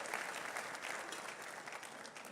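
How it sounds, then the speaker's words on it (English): Audience applause at a Central Houston, Inc. annual meeting, a dense, steady wash of many hands clapping in a large room, loud and sustained throughout the short stretch. "That's my applause to you"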